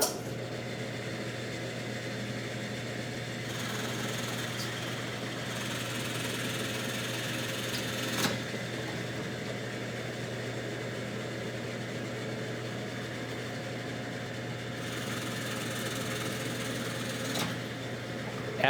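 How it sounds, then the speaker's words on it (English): Drill press boring out the ends of a slot in a wooden router table base, a steady motor hum with a low mechanical drone running throughout and a couple of brief sharp clicks along the way. "I'll take a drill bit and drill out each end of the slot"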